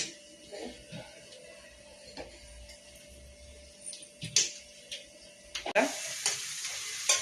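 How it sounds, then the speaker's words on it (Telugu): Bitter gourd chutney ingredients fry in hot oil in a pan, giving a soft steady sizzle broken by scraping stirs and a few sharper utensil clatters toward the end, close and without talk. "ఇవి కూడా వేసేసి మళ్ళీ ఒకసారి ఫ్రై చేస్తున్నా"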